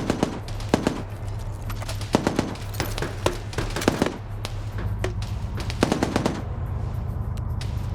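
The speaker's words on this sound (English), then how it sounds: "you can hear the machine gun reverberating through my microphone" Machine gun fire rattles in bursts during a PvP video game match, sharp repeated reports reverberating through a microphone, fairly loud over a low steady hum.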